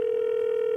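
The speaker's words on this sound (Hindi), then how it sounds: "दूसरे कॉलर को फोन लगाते हैं" A telephone handset gives off a steady, unbroken dial tone, loud and close, with nothing else heard.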